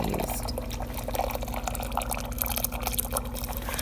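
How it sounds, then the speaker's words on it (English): Water pours steadily into a pot over chicken pieces seasoned with red sauce for enchiladas, a continuous close splashing fill that runs throughout with no voices. "so now I am just adding some water. I'm going to add enough water to cover the chicken"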